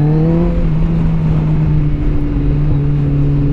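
Kawasaki ZX-14R sport motorcycle engine running loud and close, a steady low droning note holding throughout with slight rise and fall, no talk over it.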